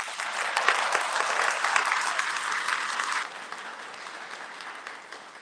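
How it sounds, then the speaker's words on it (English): Graduating Grade 10 students clapping for themselves at a moving-up ceremony, brisk close applause that thins and softens after about three seconds. "Clap for yourself."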